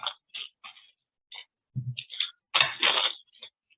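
Packaging for a set of Eyewords multisensory sight word flash cards being opened up close: a series of crisp, short crinkles and rustles, a soft thud, then a longer burst of rustling and tearing, with no talking.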